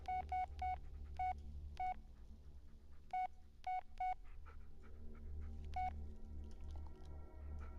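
Beeping keypad tones from an old cell phone in the Blair Witch video game, sharp short presses in quick clusters with pauses between, over a low humming background.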